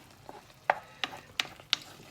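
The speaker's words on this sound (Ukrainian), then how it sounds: "Перцю мішаємо" A utensil scrapes and clacks against a frying pan in four or five separate strokes as vegetables are stirred, each a short bright scrape, fairly close, with no talking.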